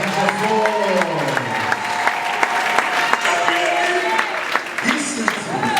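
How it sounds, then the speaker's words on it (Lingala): An audience at a church conference claps steadily and loudly throughout, while a voice carries on over the applause. "Será que podemos aplaudir para a glória de Jesus?"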